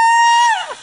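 A person screams once on request, a loud, sustained high-pitched cry that bends and breaks off abruptly near its end, close and alone.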